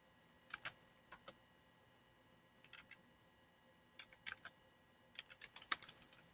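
Typing on a computer keyboard: a few brief, sparse clusters of crisp key clicks, close and quiet, separated by pauses of near silence, with no talking.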